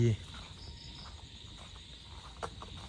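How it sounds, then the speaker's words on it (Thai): Crickets chirr in a rice field in the evening, a faint steady insect trill over low ambient noise, with a brief louder knock near the start. "ฟังเสียงกบเสียงเกียด"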